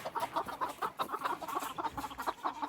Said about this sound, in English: We have 3 hens here.